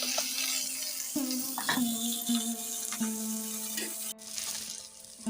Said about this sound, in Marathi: कांदा चांगला फ्राय झालेला आहे त्यामध्ये ऍड करायचा आहे टॅमॅटो